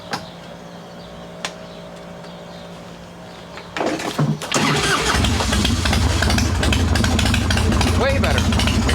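An Evo Softail motorcycle starts without choke after three squirts of fuel: a quiet stretch with faint clicks, then the cranking engine catches and fires up, settling into a loud, steady, close idle.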